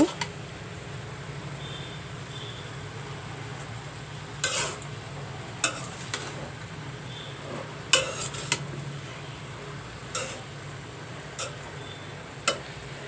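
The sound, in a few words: stirring frying ash gourd in a pan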